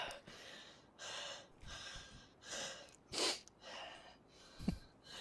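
A man left out of breath during a tense police chase, breathing hard in repeated gasping huffs and snorting exhales at a steady rhythm, faint and close, with no speech.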